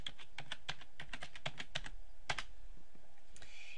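Keys clatter on a computer keyboard as a folder name is typed, a quick burst of close, distinct clicks that pauses briefly and resumes with a few final taps.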